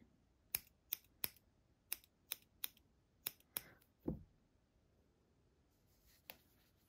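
Scissors snip the fur on a needle-felted Yorkie, a series of crisp close clicks at an irregular pace, then a duller thud and one last faint snip in a quiet room.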